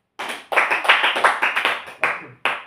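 A small group claps in short irregular bursts, about eight sharp clusters of hand claps at close range with brief gaps between them, and no voices over it.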